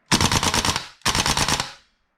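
A Tokyo Marui AKM gas blowback airsoft rifle on duster gas firing full auto, two loud close bursts of rapid rattling shots separated by a short pause, then silence.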